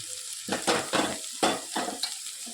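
Green onion and green chilies dropped into a pan of frying garlic, giving bursts of crackling sizzle and stirring scrapes in several rhythmic pulses, close and fairly loud, with no talking.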